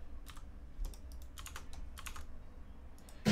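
Keys on a computer keyboard are pressed while someone plays the trombone game Trombone Champ: scattered, sharp close clicks in small clusters over a quiet background, ending in a louder thump.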